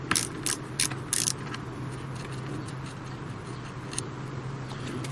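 A ratchet wrench loosens a chainring bolt on a road bike, with quick clicking bursts up front, then a steady close mechanical whir and hum.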